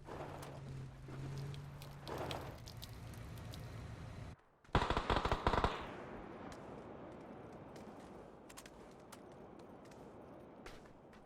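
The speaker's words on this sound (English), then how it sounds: "Firing some pot shots off at Node" Gunfire crackles in PUBG during an esports match across undulating terrain, with scattered distant shots and a brief loud close burst midway, over a faint rustling ambient bed.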